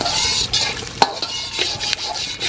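Garlic and onion sizzling in a newly cured wok over a wood fire, with a steady close frying hiss and the scrape and clink of a utensil stirring the pan several times.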